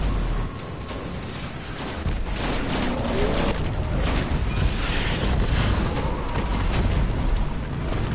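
Video-game gunfire rattles in rapid bursts as players shoot ogres, with heavy booms and a rumbling background and voices talking over the shooting.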